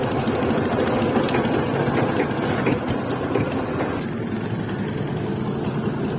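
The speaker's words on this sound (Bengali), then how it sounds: "ওই যে পাশ থেকে ট্রলার চলে যাচ্ছে" A trawler boat engine on a river ferry crossing chugs and rattles in a steady, close mechanical drone that holds throughout without letting up.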